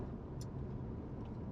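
Car cruising at about 80 km/h on a freshly graded, smooth dirt road, giving a steady low rumble of tyres and engine with no talk.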